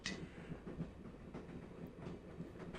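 A train rolling along at night in the Broken Sword video game: a steady low rumble with faint rhythmic clatter of wheels on rails, continuous and moderately loud, with no voices.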